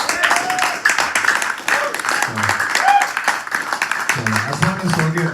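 Audience applause at a live band show in a studio, dense clapping that runs steadily through the whole stretch, with a few voices mixed in.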